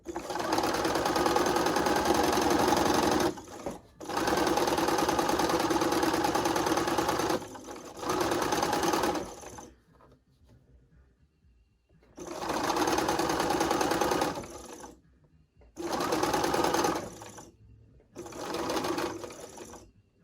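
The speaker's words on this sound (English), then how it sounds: "Now I'm just going to go ahead and sew it." A sewing machine stitches two pieces of fabric in loud, close bursts of steady whirring, running several seconds at a time and stopping between runs, with short quiet gaps in between.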